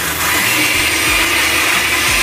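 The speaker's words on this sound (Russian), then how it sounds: "Я его закрываю и начинаю бить в блендере." Kitchen blender whirs at full speed while blending food, a loud, steady motorized hum with a high whine and occasional low thumps, running alone without talk.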